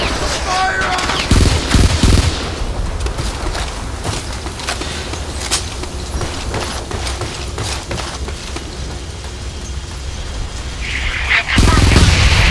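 Rapid automatic gunfire and overlapping shots in the war shooter Frontlines: Fuel of War, loud and continuous bursts with booming impacts, heaviest at the start and end, under intermittent voices.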